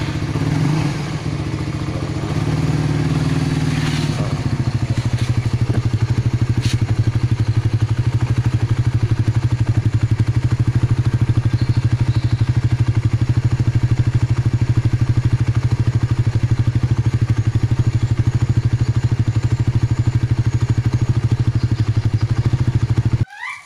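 A motorcycle engine starts after its revived dry battery is refitted, then runs at a steady loud idle close by until it is abruptly cut off at the end.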